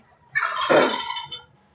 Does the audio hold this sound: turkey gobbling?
yes